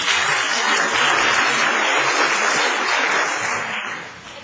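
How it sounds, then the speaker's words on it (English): An audience at a debate claps in a dense, loud, sustained burst of applause that tapers off near the end, with no talking over it. "Let's give her a round of applause"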